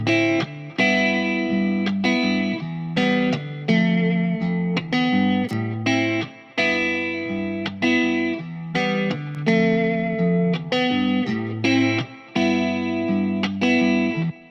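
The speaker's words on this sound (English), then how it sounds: "I'm using it on an electric guitar just to add a little bit of warmth to the sound" An electric guitar played through a warm overdrive plugin rings out in repeated chords and riffs, bright and sustained with mild distortion, steady and alone.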